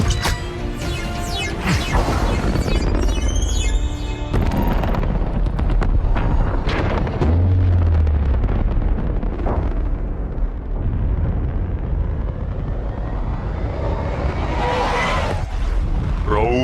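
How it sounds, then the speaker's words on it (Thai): Loud explosive bursts boom and crash as a bomb detonates in a Transformers film scene, followed by rumbling debris and dramatic noise, with a sharp blast near the start and another near the end. "ข้าจะจุดระเบิดของล็อกดาวน์เกาะไว้นั่นนั่น"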